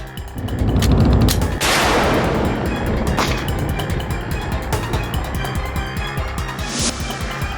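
Gunfire from a bullet fired at a man in a televised Indian crime drama: several sharp broadband cracks, loudest near the start, with a dense rumbling, echoing din continuing underneath and no speech.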